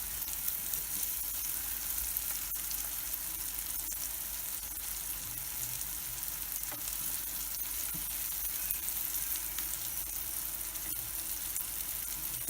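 Eggs frying in a pan for a Bangla egg fry recipe, a steady continuous sizzle with fine crackling pops throughout, close and even in level, with no talk.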